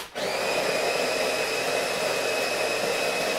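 A grinder milling fresh roasted coffee beans gives off a steady, loud motorised whir with a high whine. It starts abruptly and runs evenly for about three seconds, with no talking over it.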